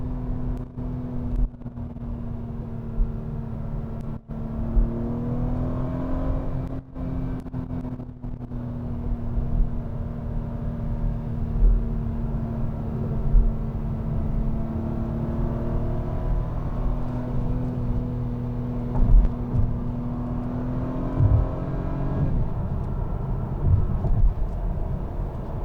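An Acura TLX Type S with super handling all-wheel drive rounds a turn, a steady low engine and road drone inside the cabin that holds a constant pitch and eases slightly near the end.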